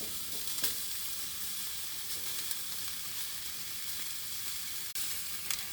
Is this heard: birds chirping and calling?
no